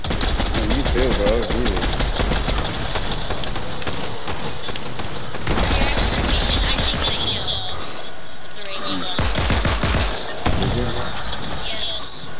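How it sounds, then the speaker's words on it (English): Automatic gunfire from a shooting video game comes in fast, repeated bursts of sharp cracks with short pauses between them. Game sounds sit in the background, and someone talks over the shooting. "Somebody was shooting me from behind."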